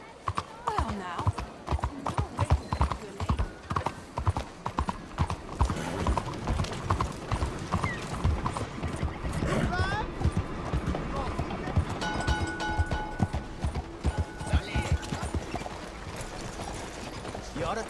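Steady clip-clop of horse hooves trotting throughout in the video game Red Dead Redemption 2, a brisk rhythmic clatter with voices speaking intermittently over it.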